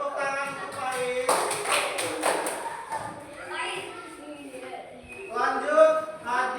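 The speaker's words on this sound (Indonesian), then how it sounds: "Tepuk tangan untuk Faiz." Classroom of children clapping for a classmate, a burst of close, dense applause lasting about two seconds, with children's and a teacher's voices talking before and after.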